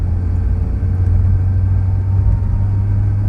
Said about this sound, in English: I think she's running far too lean. I can hear a bit of pinking going on.